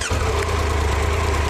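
A Triumph Tiger 1200 Rally Explorer motorcycle engine fires up and settles into a loud, steady, close idle with a low rumbling throb, no voices present.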